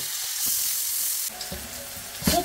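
Butter melts in a hot pan with a steady close sizzle and crackle, with a brief louder hiss near the end.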